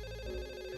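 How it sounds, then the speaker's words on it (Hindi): A telephone rings with a steady electronic tone, heard briefly and fairly faintly, with no talking. "किसका फोन आ गया?"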